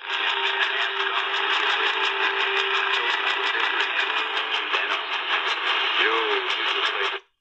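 AM skywave reception on 630 kHz from a GE SuperStar 7-2850 radio at night: a broadcast buried in steady hiss, crackle and a rough fluttering buzz, with a faint heterodyne whistle, continuous and fairly loud throughout.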